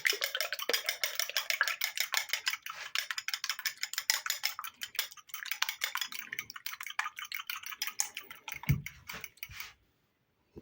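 A fork beats eggs with a little salt in a bowl, giving a fast, steady run of close, bright metallic taps and scrapes for about ten seconds before stopping; no one speaks.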